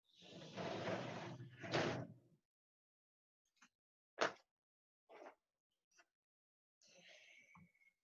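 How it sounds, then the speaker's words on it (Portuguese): A balcony door in a Brazilian home, with loud street noise, is pulled shut in a long sliding rumble lasting about two seconds, followed by a few sharp, separate knocks and clicks and a short soft scrape, all close by. "eu vou fechar a sacada"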